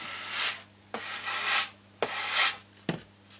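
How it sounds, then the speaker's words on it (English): A wooden piece sanded by hand, four rhythmic back-and-forth strokes with a sharp scrape at each start, close and alone with a faint steady hum beneath. "so I begin by sanding this down a little bit"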